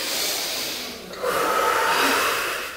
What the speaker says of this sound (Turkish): Burnundan derin nefes alıyorsun.